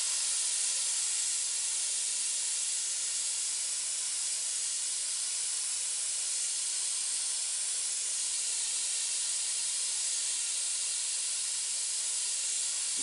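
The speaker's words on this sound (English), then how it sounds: "Spraying mainly on the paint mask itself and letting the overspray go down onto the white." Black spray paint hisses in a steady, unbroken stream as it is sprayed along the edges of a paint mask over white, close and constant with no voices.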